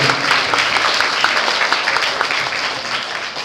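Audience applause at a Don Bosco youth show, dense continuous clapping from a large crowd that holds steady and then eases slightly toward the end.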